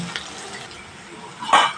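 Onions frying in a pan, stirred with a utensil: a soft, steady sizzle with a couple of scraping strokes, the last one louder and close.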